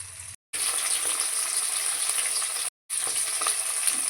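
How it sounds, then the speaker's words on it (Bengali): Small tangra fish frying in hot oil, a close continuous sizzle that drops out twice for brief moments. "এইভাবেই অল্প অল্প মাছ দিয়ে ভেজে নেব"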